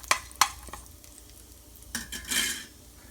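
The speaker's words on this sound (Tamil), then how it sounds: "சும்மா வாசனைக்காக தான் நம்ம வந்து வரமிளகா வந்து ஃப்ரை பண்ணுறதுக்காக போடுறோம்." Dried red chillies tossed and fried in a pan for a Tamil kale keerai dish, giving a few sharp spoon-against-pan clinks and scrapes followed by a brief soft sizzling rush, close and fairly quiet.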